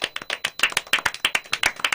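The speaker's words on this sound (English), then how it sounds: "Give each other a round of applause for a job well done." A group of people clapping together after a congratulations at a graduation-season gathering, a brisk, irregular patter of close, moderately loud hand claps with no talking.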